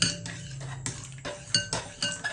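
A utensil stirring caustic lye into transparent soap base in a pot, giving a series of sharp metallic clinks and scrapes at irregular intervals, close and fairly clear, with no voices.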